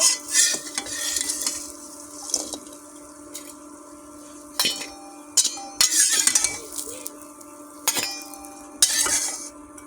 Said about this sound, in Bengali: বড়িটা আমি হালকা হালকা ভেজে নেব, হালকা লাল করব, বেশি ভাজবো না।